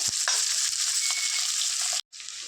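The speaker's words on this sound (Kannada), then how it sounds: "ಈರುಳ್ಳಿ ಮೆಣಸಿನ್ಕಾಯಿ ಈ ಥರ ಫ್ರೈ ಆಗಿದೆ" Onion, green chilli and curry leaves frying in a pan for vegetable uppittu: a loud, close, continuous sizzle with light stirring scrapes, briefly cut off near the end and then resuming.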